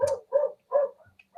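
A dog barks three times in quick succession at close range, with a softer yip trailing after, loud and clear with no talk over it.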